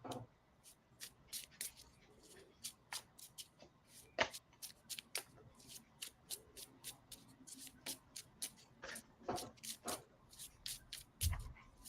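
Tarot cards are shuffled in quiet, repeated bursts of soft papery riffling and slaps, close by and fairly faint, continuing in an irregular rhythm throughout.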